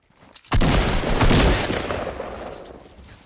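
A sudden loud burst of gunfire in Fortnite erupts after a quiet start, a dense rattling blast that gradually trails off into a fading rumble.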